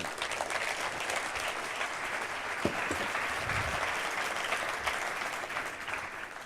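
Seminar attendees applaud their five speakers with a dense, continuous wash of clapping from a large audience, steady and even throughout, heard from a distance with a faint voice briefly rising in the middle.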